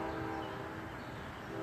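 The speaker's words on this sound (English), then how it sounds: "Trains, you hear the trains." A train passes in a busy outdoor area and sounds a sustained horn, a faint, distant steady blare over low rumble, brief and without any talking.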